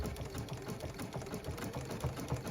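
A sewing machine stitches satin binding onto a stretch fleece blanket topper, running close and steady with a fast, even mechanical rhythm and no voices.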